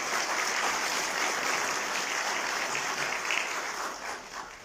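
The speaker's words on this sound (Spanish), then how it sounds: "a quien recibimos con un fuerte aplauso" Steady, dense applause from an audience at a formal university law ceremony, sustained clapping that tapers slightly toward the end.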